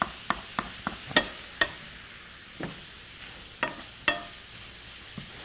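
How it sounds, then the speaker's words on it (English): Sausage browns in a frying pan with a soft sizzle, broken by a dozen sharp scraping clacks of a wooden spoon against the pan bottom at an uneven pace, close and without talk. "we'll let this sausage continue to brown"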